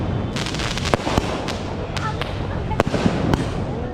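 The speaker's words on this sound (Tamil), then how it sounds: "ஸோ ஏகப்பட்ட வெடி வெடிச்சிட்டு இருக்காங்க." Diwali firecrackers and fireworks burst at Shivaji Park in Dadar, Mumbai: a dense stream of sharp cracks and pops, some near and loud, some distant, while people talk throughout.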